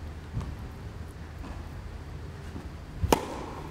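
Tennis balls struck with a two-handed backhand on a court, a couple of sharp impacts, one faint early and a louder crack near the end, against quiet outdoor background.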